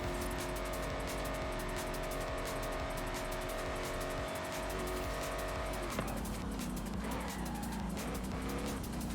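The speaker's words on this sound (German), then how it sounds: "Ich fahre jetzt wieder nach vorne" A car driven in Forza Horizon 5 roars steadily at high revs with tire noise, the engine note shifting partway through as it keeps accelerating, loud and continuous.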